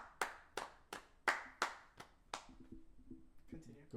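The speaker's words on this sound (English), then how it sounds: "Good old round of applause." A small group gives a brief round of applause, a handful of sharp, separate claps in an uneven rhythm that fades out, followed by faint low voices.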